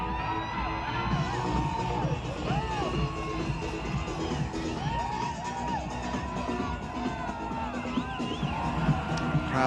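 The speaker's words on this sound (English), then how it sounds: "Crowds going wild for the Cairns Rainforest Meets the Reef float" A large parade crowd at the 1995 Mardi Gras cheers for the Cairns Rainforest Meets the Reef float, with loud, continuous roaring, whoops and shrill yells sustained throughout.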